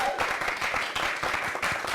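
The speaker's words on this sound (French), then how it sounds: "Applaudissements pour Mamou." An audience at a televised stage show breaks into brisk applause, a dense patter of many hands clapping steadily for a couple of seconds.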